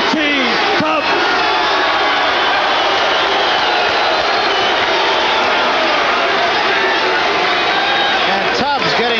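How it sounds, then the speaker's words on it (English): Boxing arena crowd cheering for heavyweight champion Tony Tubbs, a dense, loud, continuous roar of shouts and whoops sustained throughout with a ringside commentator talking over it. "And Tubbs getting the early crowd support here"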